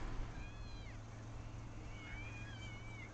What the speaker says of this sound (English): I could just hear a cat then